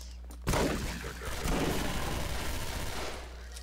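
In the shooter game SMOD Outbreak, a loud burst of gunfire erupts abruptly after half a second of quiet. It continues as a dense, rattling volley for about three seconds before tapering off.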